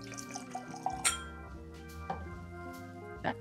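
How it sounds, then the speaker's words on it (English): Stagg bourbon, Batch 18, is poured into a glass, with light clinks and a short trickle of liquid over soft background music. "Gonna give it a little pour, a little swirl,"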